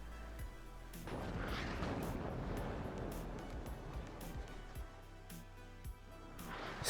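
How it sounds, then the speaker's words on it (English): Artillery fire rumbles in the strategy game WARNO, a series of distant booms and sharp cracks scattered over a low continuous battlefield din, fairly faint throughout. "Artillery coming in from both players at either side of the map."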